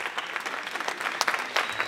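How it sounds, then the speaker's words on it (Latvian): An audience at a Latvian folk dance concert claps warmly, a dense, continuous patter of applause heard close up with a few sharper individual claps standing out. "Un tāpat ar aplausiem sagaidām VEF kultūras pils tautas deju ansambļa rotaļa vadītāju Diānu Gavari."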